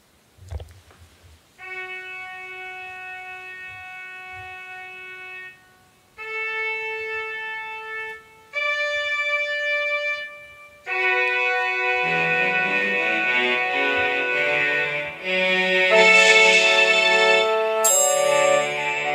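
Quiet MIDI trumpet playing a bugle-style call to open a war anthem, single held notes stepping upward before fuller layered chords and higher brassy tones build toward the end, no voices.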